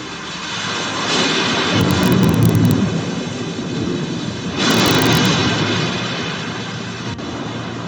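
Roaring storm at sea in a sustained broadband rush of wind and crashing waves, swelling loud around two and five seconds, with no talk.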